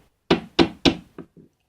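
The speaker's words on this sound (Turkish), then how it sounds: "Şimdi hemen kapıyı tıklatmalıyım." Knocking on a door: three firm, evenly spaced raps followed by two softer, quicker taps, close and alone with no talk.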